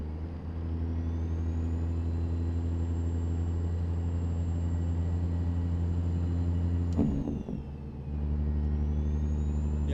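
A heavy truck with a Cat engine in American Truck Simulator drones steadily at a loud, low, even pitch, briefly interrupted by a sharp transient and a dip in the engine note before the drone resumes.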